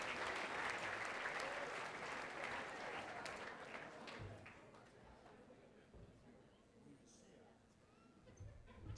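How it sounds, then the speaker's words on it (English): Audience applause at an awards event, a broad wash of clapping that gradually fades and grows faint, with voices murmuring underneath. "How about a round of applause for Cesar?"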